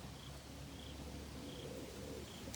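Pigeons in a cleaned loft coo softly now and then over a steady low background hum, with faint chirps mixed in.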